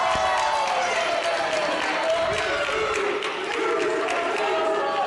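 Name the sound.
wrestling crowd chanting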